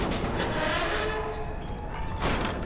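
Train in the video game Grand Theft Auto 5: a loud, steady rolling rumble of rail cars with a faint whistle-like tone, continuous throughout and surging again near the end.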